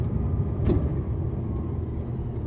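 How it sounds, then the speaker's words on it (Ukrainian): Steady loud low rumble of a truck engine heard from the cab as it pulls out toward customs in Poland, a continuous drone with a brief rise partway through. "виїжджаю звідси їду не прямо, а чуть-чуть лівіше."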